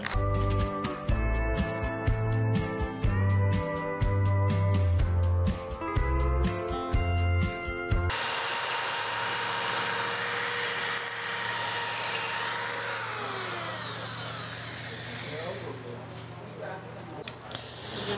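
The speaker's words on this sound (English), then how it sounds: "I turn it as slow as the lathe will go." A wood lathe spins slowly while a drill-driven power sander smooths the turned piece, giving a continuous broad machine whir and hiss that follows a stretch of music.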